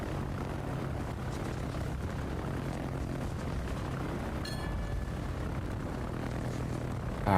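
Aircraft engines drone steadily from World of Warships planes, a continuous loud propeller hum with no break throughout, plus a brief higher whine near the middle.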